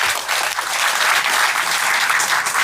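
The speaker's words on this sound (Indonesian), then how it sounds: "tepuk tangan dulu dong Bu" Parents in the audience at an Indonesian talk clap together in a dense, even round of applause that holds steady throughout.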